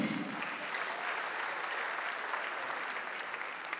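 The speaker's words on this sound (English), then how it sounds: "round of applause for Akapi" A crowd applauds comedian Akapi at a Nigerian comedy event, a dense, even wash of clapping held at a steady level throughout, heard alone without talk.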